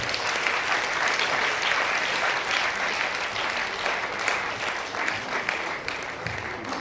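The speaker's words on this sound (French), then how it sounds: "Sous vos applaudissements, s'il vous plaît." Sustained applause from an audience at the results announcement of a law-student eloquence contest final, as candidates are called to the front; dense, steady clapping throughout with no voices.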